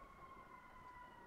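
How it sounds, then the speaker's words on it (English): Emergency sirens sound outside, a faint, steady, distant wail that holds throughout with no talk over it. "then we have the sirens outside"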